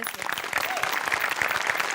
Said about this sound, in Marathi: आपल्या सगळ्या टीमसाठी आपणच एकदा टाळ्या वाजूया.